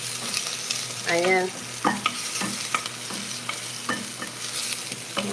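Squid adobo is stirred in a hot pan with a steady sizzle, while a spoon scrapes and taps in repeated strokes and a voice briefly speaks once.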